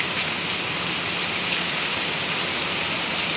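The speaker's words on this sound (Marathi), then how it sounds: "हे बघा, मस्त भरमसाठ पाऊस चालू आहे।" Heavy monsoon rain pours down steadily in Nashik, a dense, continuous wash of drops hitting surfaces close by, loud and unbroken with no voices.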